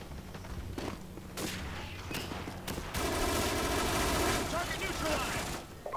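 A mounted M249 SAW lays down gunfire in Call of Duty: Modern Warfare. Sustained rapid bursts build to a loud, continuous fusillade after a few scattered shots and booms, with talk running underneath.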